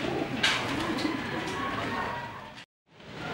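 Racing pigeons coo steadily inside the North Flyers loft in Dasmariñas, Cavite, a soft continuous murmur of several birds close by with rustling and flutter, briefly cutting out near the end.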